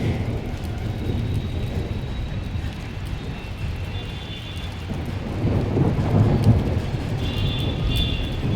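Steady heavy rain with low, rolling rumbles of thunder swelling partway through, continuous and fairly loud with no voices.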